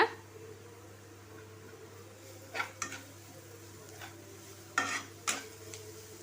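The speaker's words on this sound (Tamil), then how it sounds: "சும்மா ஒரு 2 நிமிஷம் மட்டும் வதக்கி எடுத்துக்கோங்க" Grated carrot with a pinch of salt sautés in a pan for carrot rice, a faint low sizzle with a handful of sharp spoon scrapes and clinks against the pan, nearby and quiet.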